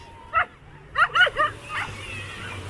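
A few short dog barks and yips, one then a quick cluster of three, at moderate distance over a soft outdoor background, on the beach at Weymouth Bay, Dorset.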